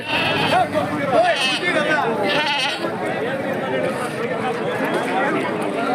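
Sheep bleat repeatedly at a crowded livestock market for sheep and goats in Gubbi, with loud, wavering cries close by over steady crowd chatter while people nearby talk.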